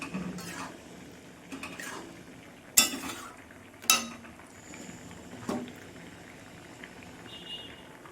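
A pot of vegetable dal bubbling on the stove, a soft steady simmer with a few sharp utensil clinks against the pot, close by and fairly quiet.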